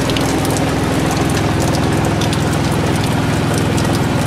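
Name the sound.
heavy rain on a sailing boat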